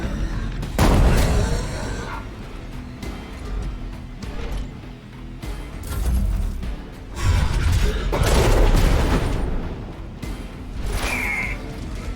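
In Warhammer 40k: Rogue Trader, a grenade blows up as a sharp, loud burst, followed by further booming impacts and crashing combat noise, with a faint voice in the background.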